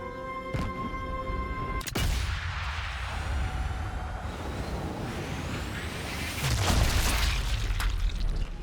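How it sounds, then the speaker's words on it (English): A bunker is blown up in Sniper Elite 5, its heavy explosion rolling out as a broad, sustained roar with rumbling low end, swelling louder toward the end amid game ambience and sharp impacts. "Then we got the explosion going off."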